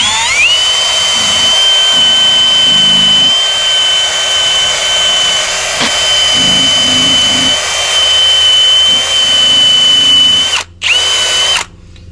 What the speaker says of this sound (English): If you got a drill, or if you just have a hand wire brush, I like to run it around this edge right here